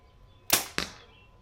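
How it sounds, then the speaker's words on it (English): Two sharp, close thwacks a fraction of a second apart, arrows at about 300 feet per second striking a target from 15 to 20 yards, each followed by a brief fading rattle. "the sound of it hitting the target at 15 to 20."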